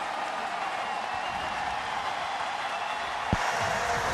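A football stadium crowd roars during a timeout in the Marshall vs East Carolina game, a continuous broad wash of massed voices holding steady, with a single dull thump near the end.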